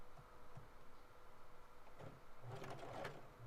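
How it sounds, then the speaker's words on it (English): A home sewing machine stitches a fabric face mask, its needle running in a steady fast rhythmic whir that picks up and grows louder toward the end, with light handling noises of the cloth. "he's gonna sew right there"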